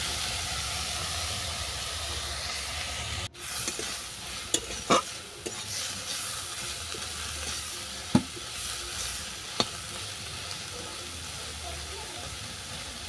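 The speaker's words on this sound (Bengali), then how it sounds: "এবার আমি এটাকে ভালো করে নেড়ে চেড়ে ভাজা ভাজা করে নেব।" Peas, shrimp and piring flowers are stir-fried in a pan, giving a soft steady sizzle broken by a sharp knock and several brief scrapes of the spatula.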